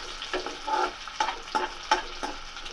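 Cumin, mustard seeds, fenugreek, garlic, onions and curry leaves sizzling in hot ghee, steady frying hiss broken by repeated sharp stirring scrapes and spatters at an uneven rhythm, close up.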